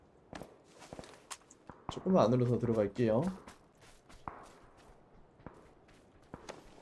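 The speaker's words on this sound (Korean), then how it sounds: "발소리 들어서 다행이다." Soft, scattered footsteps in a video game on the Sanhok map tap irregularly in the background while a person speaks briefly in the middle.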